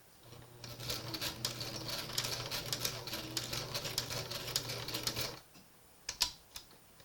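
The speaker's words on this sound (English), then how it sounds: "I repositioned it so that I don't sew through the sequins and I still get some good stitches" A sewing machine runs a fast, steady burst of stitches through a sequined headband for about five seconds, then stops, leaving a few faint clicks and handling sounds.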